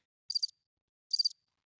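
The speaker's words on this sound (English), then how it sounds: "crickets." Two short cricket chirps, each a quick trill of several pulses, spaced about a second apart against complete silence.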